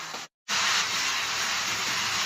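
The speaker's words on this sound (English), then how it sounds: "The rain started getting heavier." Rain comes down on a mountainside, a steady, dense hiss that cuts out for an instant and then returns louder and fuller, holding heavy and even to the end.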